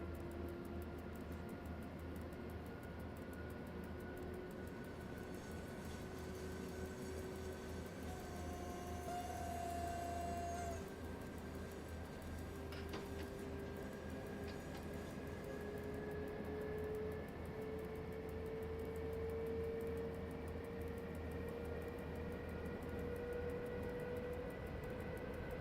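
A train locomotive powering up in the SimRail video game gives a faint, steady electric hum with slowly rising whine tones and a low rumble, sustained without interruption.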